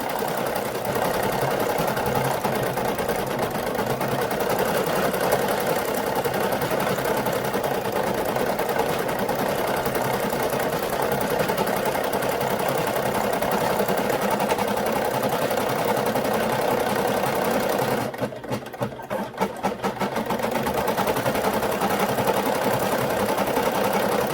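A Brother SE1900 embroidery machine stitches a Christmas design straight onto a onesie, a steady fast mechanical whir and needle chatter that runs on continuously, pausing briefly near the end before resuming.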